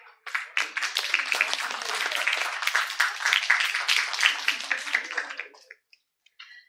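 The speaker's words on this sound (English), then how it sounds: "Let's give a big round of applause to all our respected panelists" An audience at a physiotherapy institute event applauds the panelists, the crisp, close clapping swelling quickly, holding for about five seconds, then thinning out to a few last scattered claps.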